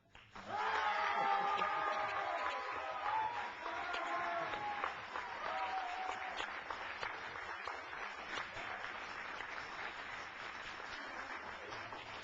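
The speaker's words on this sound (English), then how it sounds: "we may have a protest because Simon and Zach applauded for themselves" A debate audience applauds the Yes team, steady clapping from a crowded room that swells quickly then holds and slowly thins, with a voice speaking over it near the start.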